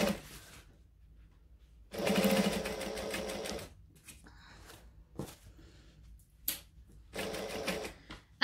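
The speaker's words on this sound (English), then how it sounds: "Backstitch, always backstitch. Locks everything into place." Sewing machine stitching fabric in several bursts, with backstitching to lock the seam; quiet pauses separate the close, steady runs of stitching.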